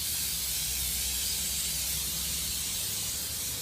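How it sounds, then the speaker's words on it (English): Aerosol contact cleaner blasting steadily from a spray can during a solar pump wire splice, a continuous close hiss with no break for several seconds. "You give it a good old spray."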